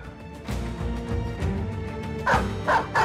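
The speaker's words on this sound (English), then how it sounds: "Dogs!" Dogs barking in the video game Battle Brothers: a string of short, loud barks, with a quick cluster of three sharp yelps toward the end over a low rumbling game backdrop.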